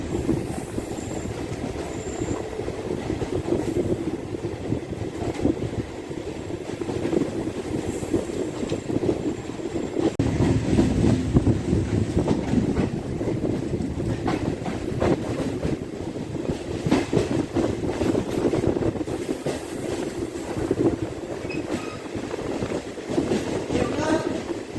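A MEMU passenger train runs on the rails between Secundrabad and Chittapur, giving a steady loud rumble with clattering wheel beats and faint squeals. Voices can be heard now and then over the noise.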